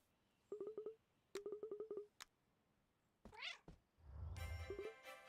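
A video-game cat gives two quick runs of chirpy, rising meows, then a longer drawn-out yowl and a few more cries over electronic game sounds, with no talking.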